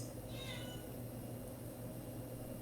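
A pet cat meows once, short and faint, from outside a small closed room, heard against a steady background hum and hiss.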